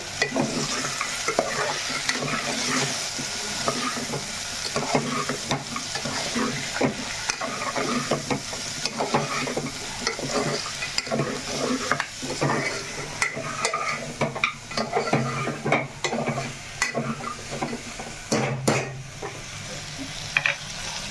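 Mutton curry with salt being stirred in a frying pan, continuous sizzling with repeated scraping strokes of the spoon throughout.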